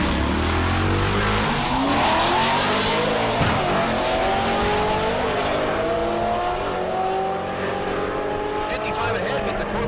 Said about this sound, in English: Let's go stick shift racing.